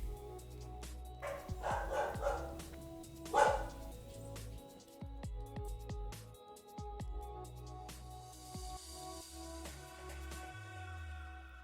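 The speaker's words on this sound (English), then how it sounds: "my dogs are barking" Dogs barking indoors somewhere in the house, several scattered barks and yips at moderate distance over faint background hum.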